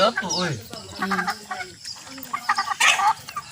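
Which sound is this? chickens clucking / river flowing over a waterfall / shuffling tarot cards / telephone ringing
chickens clucking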